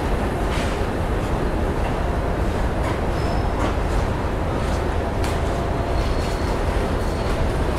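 Diesel passenger train hauled by twin ALCO locomotives on the Bhatinda–Firozpur–Amritsar route, a steady loud rumble of engines and rolling wheels with faint rail clatter throughout, no talk.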